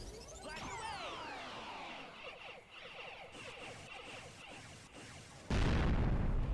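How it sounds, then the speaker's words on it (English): An explosion in the Sonic Heroes video game bursts in loud and sudden near the end, after a stretch of busy, chirping game effects and whooshes. "Loud explosion"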